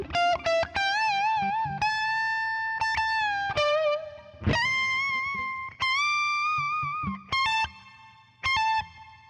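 An electric guitar plays a riff with distortion-style effects, sustained notes bending and wobbling in pitch between short picked attacks, close and loud with brief pauses.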